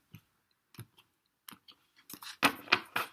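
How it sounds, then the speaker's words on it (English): Soft clicks and papery riffles of a tarot deck being cut, a few isolated taps followed by a denser burst of shuffling, close and quiet. "I've already shuffled, and I'm going to cut the deck"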